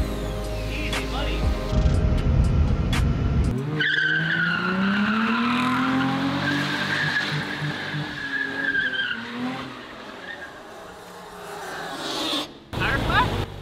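A cheap Mazda RX-8 scrubs its tire hard against the bodywork while driving, producing a long, loud squealing and rubbing screech over a running engine that rises and falls in pitch, then fades near the end.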